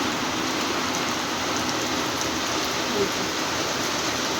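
Rain pours down on a rooftop garden full of flowering plants, producing an unbroken, moderately loud wash of droplets with no voices over it.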